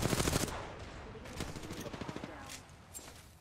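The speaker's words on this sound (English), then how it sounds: "I'm getting shot at from the team behind." Enemy gunfire in a shooter video game crackles in rapid automatic bursts, loudest at the start and then fading to scattered quieter shots further off.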